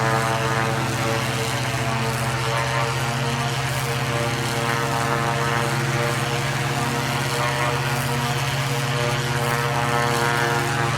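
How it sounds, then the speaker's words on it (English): Stock propeller plane taking off in the video game Flyout, a loud, continuous droning engine hum with a steady buzzing tone throughout, no speech. "We got off the ground with the stock plane."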